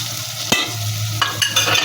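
Fish frying in a pan with chili, garlic and cumin paste being stirred in for a village-style curry; a steady low sizzle runs throughout, broken by several sharp scraping stirs of the spoon against the pan.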